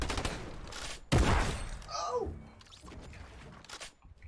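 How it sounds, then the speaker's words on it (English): Burst SMG firing in a Fortnite mouse-and-keyboard 1v1 fight, heard as a sharp crack of shots near the middle amid game effects and clutter, with faint talk-like sounds in the mix. "1v1ing, trying to kill me with the burst SMG"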